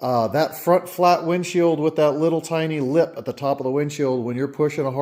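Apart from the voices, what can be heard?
None of the usual background noises is heard.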